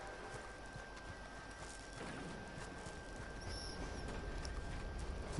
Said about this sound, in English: My horse will make its own way around.